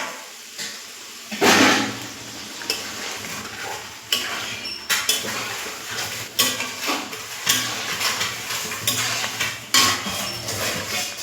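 Chickpeas hitting hot oil in a pan and being stirred, a steady sizzle and fry broken by repeated scraping strokes and soft clatters of the spoon against the pan, close and moderately loud.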